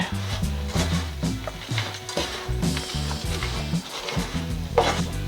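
Cashews, sugar and sesame seeds stirred in a hot pan, with repeated scraping and clattering strokes over a continuous soft sizzle, close and steady, no talk.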